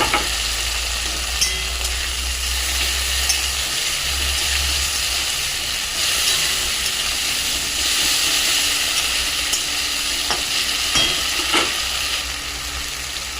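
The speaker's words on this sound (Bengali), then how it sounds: "ছোটো ছোটো করে কুচনো পেঁয়াজ ভালো করে লাল লাল করে ভেজে নিতে হবে" Finely chopped onion frying with tomato and ginger in a pan, a steady close sizzle and hiss with faint stirring scrapes running throughout, no voices.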